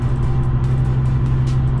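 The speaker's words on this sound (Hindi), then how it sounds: "तो ये आती है स्पोर्ट्स कार, और ये बहुत महंगी है" A sports car of about 300 bhp, white, with a sport mode, runs with a steady loud engine drone close by for under two seconds, with no talk over it.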